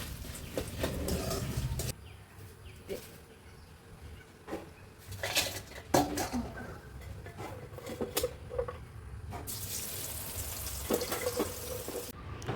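Jackfruit pieces fry in hot oil, giving a steady bubbling sizzle with scattered pops and crackles, close up, alone without voices.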